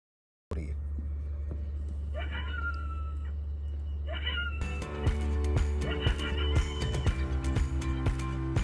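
Coyote calls played from a zoo soundboard, short yips and wavering cries that give way to a dense burst of rapid, overlapping yelps and barks, moderately loud over a constant low hum.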